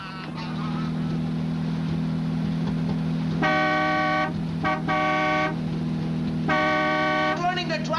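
Car horn honking in a 1941 Niagara Falls setting, blaring in several long blasts of a few seconds each over a steady low engine drone.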